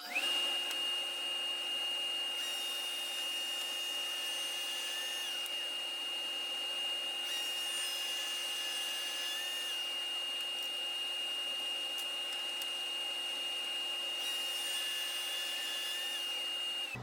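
A Grizzly G0944 1.5HP wall-mounted dust collector runs steadily and alone, a constant loud motor whine with an airy broadband rush that holds level for the whole stretch.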